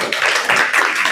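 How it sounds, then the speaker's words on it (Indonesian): Audience applause for a presenting student group in a classroom teaching assessment, steady dense clapping throughout, moderately loud with no talk. "Boleh tepuk tangan buat kelompok 3."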